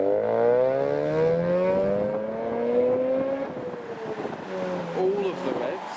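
A modified car engine revs hard with rising and falling pitch as cars leave a car show, loud and close, over wind noise and a busy outdoor background.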